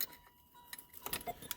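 Car keys for a 1988 Fiero GT 3800 Supercharged jingle and clink close by in a few quick bright bursts, with a quiet gap before the rattling picks up.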